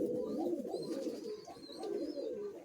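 Madrasi pigeons coo softly in repeated low, throaty phrases, close by and fairly quiet, with faint chirps in the background.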